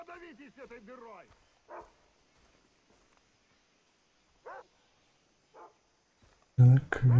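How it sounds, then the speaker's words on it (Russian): A dog in the video game Far Cry 3 gives a few short, scattered barks against quiet game ambience, followed by a loud, abrupt burst of sound at the end. "Так, вижу собаку."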